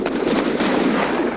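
Cannon fire in the Age of Empires 3 real-time strategy game bursts in a quick cluster of booming shots, loud and close, with no talking.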